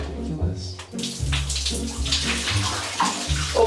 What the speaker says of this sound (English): if we just dump it straight into the drain